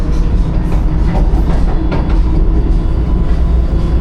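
An express train runs at speed out of Alappuzha, Kerala, heard from inside the coach as a loud, steady rumble with rhythmic clattering of the wheels on the rails.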